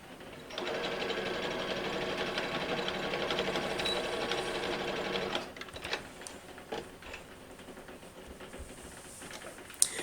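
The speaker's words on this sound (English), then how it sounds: "And then what I will do after that is I'll serge it." A serger stitches the seam of a knitted jumper, running as a steady, dense mechanical whir for about five seconds before stopping, followed by scattered clicks and fabric handling close by.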